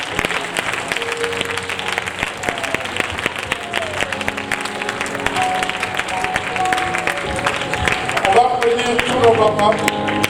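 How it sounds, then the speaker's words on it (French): Church congregation at a Father's Day service claps for all the fathers, a steady loud applause with music playing underneath and talk mixed in. "On va applaudir tous nos papas."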